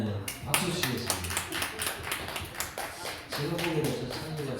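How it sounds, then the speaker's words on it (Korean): A church congregation at a special dawn prayer service claps in a loose, uneven rhythm, moderately loud, with voices singing or talking underneath. "박수 치겠습니다."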